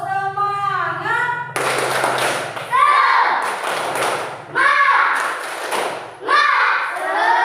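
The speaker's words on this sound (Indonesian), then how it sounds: "Tepuk semangat." Schoolchildren in a fifth-grade classroom clap a rhythmic spirit clap (tepuk semangat) in loud, patterned bursts of hand claps and thumps, with children's voices chanting along between the clapping phrases.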